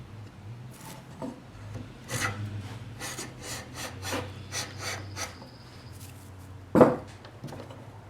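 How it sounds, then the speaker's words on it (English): A hand plane shaves figured maple wood in a series of rasping, scraping strokes, each a short swish, up close and fairly quiet, with a sharper knock near the end and no talking. "Now push it down the wood slowly, and you can see those shavings are coming out"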